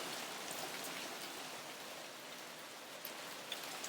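Light rain falling outdoors, a soft, steady, even patter of drops with occasional faint individual taps, quiet and uninterrupted.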